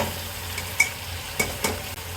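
Meat with its oil and fat frying in a pot of browning onions for haleem, a steady sizzle with a few brief scrapes and clinks of a stirring spoon.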